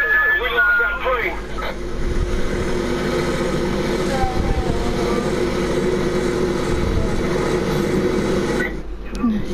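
A propeller airplane in the video game Far Cry 5 drones steadily throughout with engine hum and wind noise, loud and continuous, with game effects layered on top and a sudden cut near the end.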